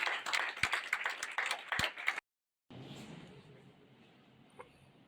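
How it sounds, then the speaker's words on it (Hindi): Clapping from a group bursts out with sharp hand claps, breaks off briefly, then resumes as a softer, steady patter of applause. "इनके लिए तालियां एक बार।"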